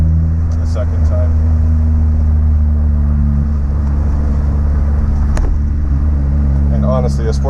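A Honda S2000 sports car engine hums steadily up close while the driver double-clutches through a gear change, with a faint rise in revs near the end and a voice speaking over the constant drone.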